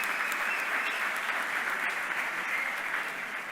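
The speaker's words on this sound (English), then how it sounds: "Big applause." A dense, steady wash of applause from a crowd at a hackathon closing ceremony, even in level throughout with no voices over it.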